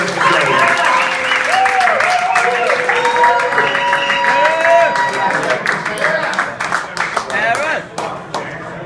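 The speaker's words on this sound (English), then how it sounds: "And let's give a round of applause for Harris Ray" An award ceremony audience breaks into loud, sustained applause, a dense wash of many hands clapping that carries on under a speaking voice and then tapers off toward the end.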